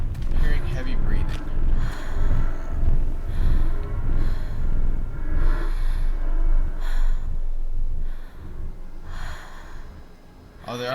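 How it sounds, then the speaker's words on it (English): Heavy, rasping breaths come in slow repeated pulses inside the horror game The Park, loud and close over a low rumbling ambience, gasping inhales and exhales fading near the end. "Hearing heavy breathing."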